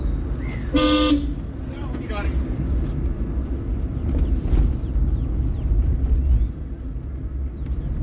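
A car horn gives one short, loud blast during a driving lesson on a road, followed by a steady engine rumble and wind noise while a voice speaks briefly.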